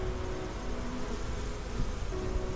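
Honey bees hum in a dense, steady drone at a hive entrance during a mid-November inspection on a farm, a continuous close buzz with faint tonal whines drifting through it.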